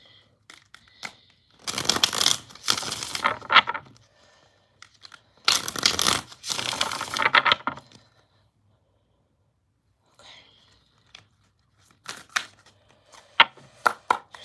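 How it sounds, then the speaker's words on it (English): Tarot cards shuffled by hand in two long riffling bursts of crisp rapid flutter, then softer scattered taps and snaps of cards after a quiet gap, close and alone. "I'm going to do 3 shuffles"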